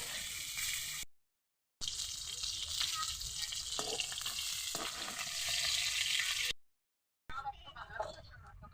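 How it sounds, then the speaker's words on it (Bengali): Continuous loud crackling sizzle of rohu fish frying in hot oil, cut by two brief silences, with a voice faintly heard near the end. "চলো মাছটা ভেজে নিই"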